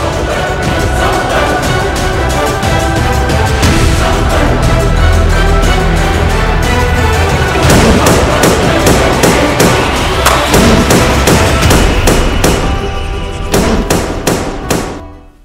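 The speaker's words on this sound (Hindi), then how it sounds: "सीएम शिवराज सिंह चौहान ने पटाखे फोड़कर जश्न मनाया है" Firecrackers burst loudly and continuously at a celebration of India's semifinal win, a dense crackling barrage that ends in a run of sharp, evenly spaced bangs before fading.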